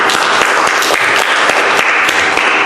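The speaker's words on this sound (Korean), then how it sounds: "우리 열심히 봉사하시는 교회 장로님들 위해서 박수 한번 칠까요?" Church congregation applauds its serving elders at a church officers' retreat, steady dense clapping filling the room from nearby, sustained throughout without voices.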